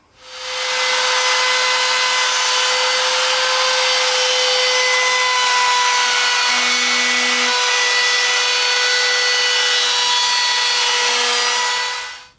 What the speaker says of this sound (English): I'm just going to use my trim router to go around the outside edge